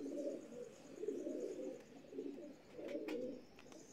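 Pigeons coo softly at close range, several rolling low coos repeating in a loose rhythm, with a faint tick or two in the background and no talking.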